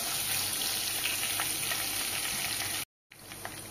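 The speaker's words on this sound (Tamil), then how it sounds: "எல்லாமே நல்லா வறுபடட்டும்." Onions and curry leaves frying in hot oil for a brinjal kuzhambu, a steady close sizzle and crackle that runs without pause until a brief drop to silence near the end.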